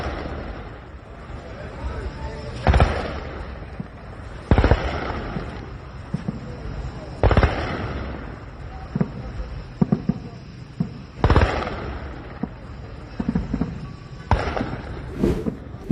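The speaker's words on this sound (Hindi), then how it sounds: "मशहद पर तो कई धमाके साफ सुनाई दिए हैं।" Explosions strike the city of Mashhad during night attacks, heard as a series of sharp, booming blasts spaced a few seconds apart over a steady background rumble, fairly loud and distinct.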